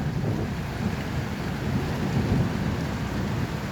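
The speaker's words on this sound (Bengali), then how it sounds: "আজকে সৌদি আরবে অনেক বৃষ্টি হইতেছে।" Heavy rain pours steadily on a garden with deep rumbles of thunder underneath, a continuous dense wash of sound with no one speaking.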